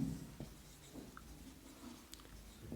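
Handwriting with a pen on paper while filling in an accounting sheet, faint close scratching strokes in short bursts, quiet and alone with no talk.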